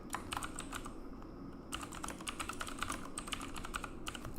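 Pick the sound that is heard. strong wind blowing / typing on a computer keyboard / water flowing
typing on a computer keyboard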